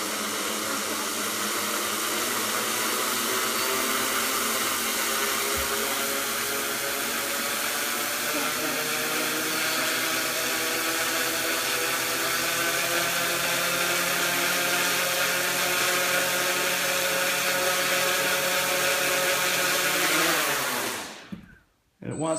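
A DJI F450 quadcopter's motors whine under light throttle as the drone tips and flips, making a loud, steady, rising buzz close by that holds for about twenty seconds and then cuts off abruptly.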